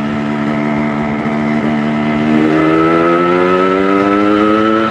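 A motorcycle exhaust rumbles steadily and close by, then climbs in pitch about halfway through as the engine revs up. No one speaks.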